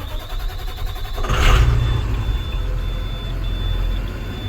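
A Navistar VT365 diesel engine running smoothly during diagnosis of a long crank and no start, steady low rumble with a brief louder whoosh near the start and a thin whine above.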